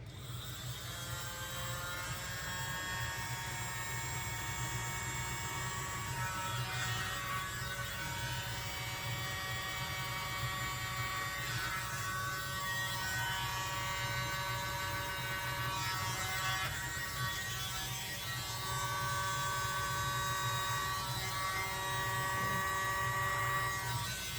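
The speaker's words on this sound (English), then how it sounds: "the world's smallest leaf blower. I really like this tool." A tiny handheld leaf blower whirs in a steady high-pitched electric buzz while blowing out wet acrylic paint in a Dutch pour on ceramic tile, running continuously and close without pause.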